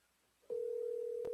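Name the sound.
phone call ringing on Verizon cell phone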